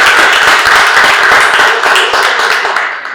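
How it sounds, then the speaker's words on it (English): Close, loud clapping from a small poetry open-mic audience, a brisk run of distinct hand claps that thins out and fades toward the end. "Another round of applause."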